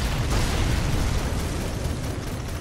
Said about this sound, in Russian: кто-то стреляет из главного орудия